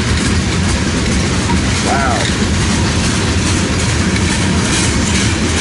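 A mile-long freight train rumbles past steadily at close range, with continuous low rolling noise and wheel squeal, and a voice briefly exclaims over it.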